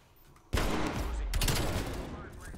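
Dual-wielded snakeshot magnum fire in Black Ops Cold War: a sudden loud burst of shots kicks in after a quiet start and sustains as dense, overlapping blasts with a second surge, up close and alone.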